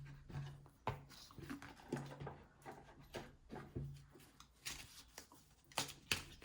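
Oracle cards are shuffled by hand in a quiet room, giving a run of soft papery riffles and taps in an irregular rhythm, close and moderately quiet with no talking.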